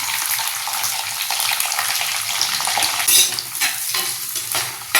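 Large onions and shallots with curry leaves fry in oil for a roasted chicken kuzhambu, making a loud, steady, close-up sizzle broken by spatula stirs and scrapes.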